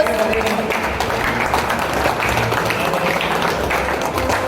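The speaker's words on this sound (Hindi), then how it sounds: "तालियां बजती रहनी चाहिए जब तक केक खत्म ना हो" Steady applause from a gathered crowd at a cake cutting celebrating a car achievement, with continuous dense clapping at an even loudness throughout and faint voices mixed in.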